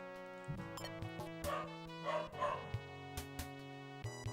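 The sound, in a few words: dog barking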